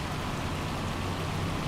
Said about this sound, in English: It's just going to turn to rain.